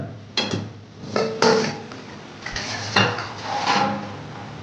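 A metal lid comes off a cooking pot of tangra fish with eggplant, producing a series of sharp clanks and clatters, several distinct knocks close by.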